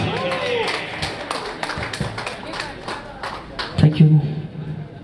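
Audience clapping for a singer at a bridal fashion show in Manipur, scattered claps over background noise with a voice speaking and a brief loud burst near the end.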